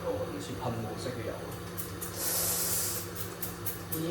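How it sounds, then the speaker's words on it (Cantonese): Spray-can cooking oil, sold as one calorie per spray, releases a short, hissing burst of about a second in a home kitchen, with quiet talking around it. "因為呢個係一個類似噴霧式嘅油"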